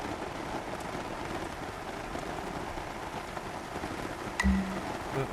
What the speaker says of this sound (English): I don't have to listen to this really loud rain